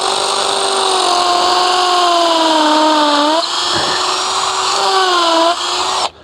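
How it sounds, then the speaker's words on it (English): Close, loud power drill fitted with a larger bit boring back into an existing hole for a garden mirror fixing, a steady whine with rising pitch that slows and dips midway before resuming, then cuts off abruptly near the end. "we're going to go in again into the same hole with a bigger drill bit"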